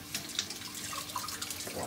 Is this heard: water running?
yes